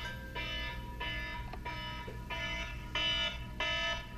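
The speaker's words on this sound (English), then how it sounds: "Why do I have an alarm at this time?" A faint electronic alarm beeps in a steady repeating pattern of about six pulses, heard alone over low background hum.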